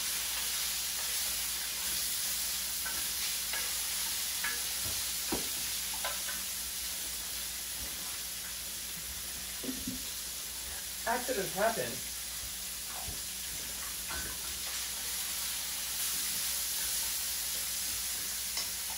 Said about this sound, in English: I would have been frying my silicone.